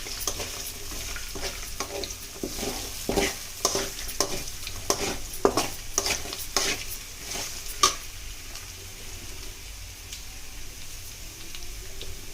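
Sabudana kichadi frying in a pan with a pinch of turmeric, steady sizzling beneath a run of quick scraping and tapping spatula strokes that come in bursts, then ease off to quieter frying, close up.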